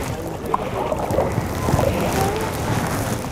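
A canoe glides on open water as paddles dip and pull, giving soft, close swishes and gentle splashes over a steady hush of wind and water.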